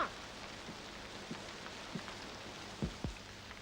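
Steady rainfall hisses evenly throughout, with a few louder scattered drops and thumps near the end, no voices over it.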